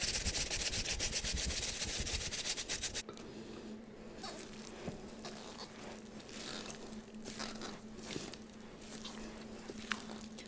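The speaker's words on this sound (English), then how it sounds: "the batter is all prepared minus the carrots, so I'm going to grate those really quick" Carrots are grated by hand for carrot cake batter in a home kitchen, a steady scraping rasp for the first few seconds, followed by quieter intermittent rubbing and handling noises.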